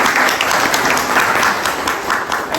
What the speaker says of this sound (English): So a round of applause to Asif.